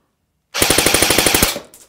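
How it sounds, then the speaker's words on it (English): An Echo 1 Red Star AK47 airsoft electric rifle on an 8.4 volt battery fires a single full-auto burst of about a dozen rapid, evenly spaced mechanical shots, loud and close, lasting roughly one second before cutting off. "Let's go for full auto, see how many rounds per second we're going to get."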